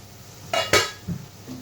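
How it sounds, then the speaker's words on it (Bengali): A cooking pot's lid is lifted off while spiced masala cooks down for mukhi kochu with dried shrimp, giving two quick metallic clinks close by, then a softer knock and quiet. "ঢাকনাটা উঠিয়ে দিই"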